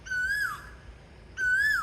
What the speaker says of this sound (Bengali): কোকিলের ডাক, শুনুন আমার ভিডিওতে আপনারা।